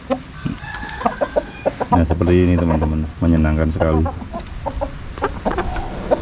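Chickens in a backyard coop cluck and squawk in short, scattered bursts at morning feeding time, near and lively, with a longer loud crowing call in the middle and someone talking over them.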